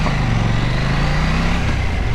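A KTM 790 Duke motorcycle engine runs close by, a steady low throbbing drone with no talk over it.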